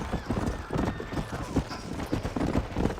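Horse hooves clip-clop at a steady trot in the Red Dead Redemption video game, mid-distance and fairly loud, with continuous game ambience and a faint whinny underneath.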